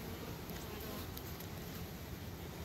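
Honeybees from a package being installed into a hive give off a faint, continuous low buzz that stays steady and quiet throughout.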